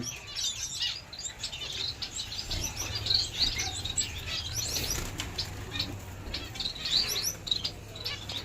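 Blue-faced parrot finches and other small finches in an aviary chirp and tweet in short bursts over steady wing flapping, with a low hum underneath.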